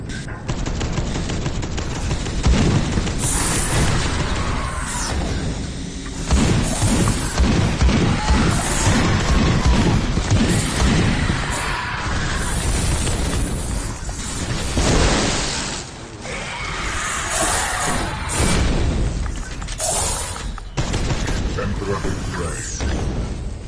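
Missile launcher fire and explosions in the Space Hulk: Deathwing video game, heard as a sustained loud barrage of booms, mechanical clatter and rapid gunfire-like bursts with dense layered blasts throughout.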